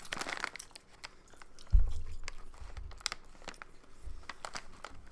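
Bacon-flavored Bigs sunflower seeds being crunched and chewed close up, with sharp cracks and a crinkle of the bag amid quiet mouth sounds, no talk.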